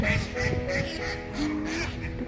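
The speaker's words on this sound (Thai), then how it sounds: "เป็ดเป็ดบินนะไม่ใช่นกบิน" Ducks quacking in repeated bursts roughly every half second on a walk through a German city on a cold, overcast day, fairly close and steady amid street background hum.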